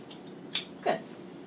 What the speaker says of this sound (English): I'm going to trim this excess fabric so I can get a better idea of the complete shape